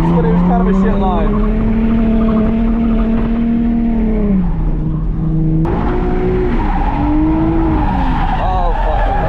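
A Nissan 350Z on an autocross course skids under the e-brake, its tires letting out a loud, sustained wavering squeal that dips, breaks off briefly midway, then returns with engine noise underneath.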